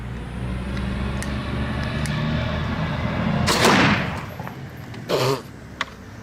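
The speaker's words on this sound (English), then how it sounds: "But for now, let's get this one exploded." An ELIDE fire extinguisher ball bursts outdoors with one loud, sharp blast over steady background rumble, followed moments later by a second shorter pop and a brief click.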